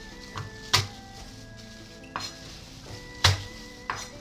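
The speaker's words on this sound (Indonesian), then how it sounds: "Geprek bawang putih." Four garlic cloves crushed flat on a board for a long bean and tofu dish: four sharp, close thumps at uneven intervals, each standing out above a faint kitchen background, with no talking.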